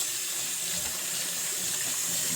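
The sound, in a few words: rinsing kitchen counter with warm tap water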